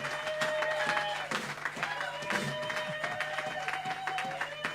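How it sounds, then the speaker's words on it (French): A church congregation at a French-language service applauds and cheers for the Lord, steady crowd clapping and voices holding throughout over a sustained tonal background. "Donnons encore une fois une acclamation au Seigneur."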